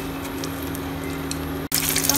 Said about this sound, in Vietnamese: Và chúng ta sẽ cho tóp mỡ vào chúng ta chiên.